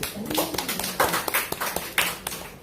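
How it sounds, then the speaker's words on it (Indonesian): A small group at a church service claps briefly, a scattered patter of hands with uneven rhythm, fairly close. "Tepuk tangan untuk Tuhan"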